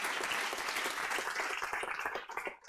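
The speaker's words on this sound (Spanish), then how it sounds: "Denle un aplauso al Rey bendito." A church congregation applauds during a worship service, a full, continuous burst of many hands clapping at moderate loudness that thins slightly toward the end.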